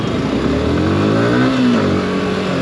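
Yamaha R15 V4 sport motorcycle revving hard in city traffic, a loud, close, continuous engine note climbing and dipping in pitch as the rider works the throttle.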